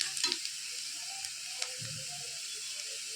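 Onions fry in hot oil with garam masala, making a short, steady high hiss of sizzling with a few small clicks and crackles and no voices.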